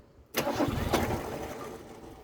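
A Ford Capri engine cranks and fires into life with a sudden loud burst, then settles into a steady rough idle, close by with no talking.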